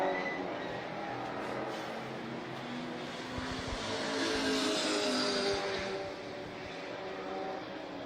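Race cars at a one-hour endurance event exit a track hairpin, a steady broadband engine roar that swells and fades slightly as they pass at moderate distance, with no talking.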